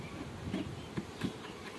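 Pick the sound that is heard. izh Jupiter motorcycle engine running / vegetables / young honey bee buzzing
young honey bee buzzing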